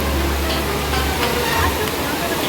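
A river on the trail to Jatashankar waterfall near Girnar, Junagadh, rushes steadily in a loud, continuous wash of flowing water that fills the whole moment.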